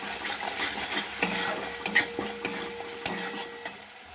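Turmeric, salt and spices fry in oil for a prawn malai curry, a soft steady sizzle broken by repeated scraping stirs and sharp clicks of a spoon against the pan, close up with no talking.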